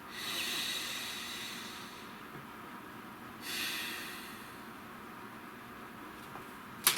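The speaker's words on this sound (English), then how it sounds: "Nice deep breath." A slow, deep breath is drawn in and released audibly, two soft airy swells of breathing close to the mic in an otherwise quiet room, ending with a small sharp click.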